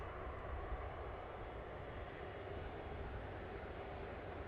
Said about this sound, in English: So this 330 of Virgin Atlantic. Just arriving in from Atlanta.